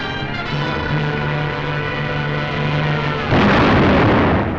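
Heavy tank battle gunfire in a 1944 WWII war film, a loud sustained rumbling barrage that swells into a denser roaring burst near the end, with no talk.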